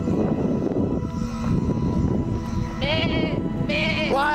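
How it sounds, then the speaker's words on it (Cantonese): A large sheep bleats twice, near and fairly loud, over a rumbling, noisy outdoor background. "有隻羊啊"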